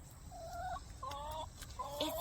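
Small backyard hen clucking several times in short, separate bursts, fairly close and moderately loud over a faint background hiss.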